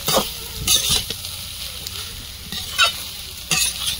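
Chow mein with egg and carrots tossed and stirred in a hot wok, with repeated sharp scraping strokes of the spatula over a steady sizzle of frying, close and fairly loud.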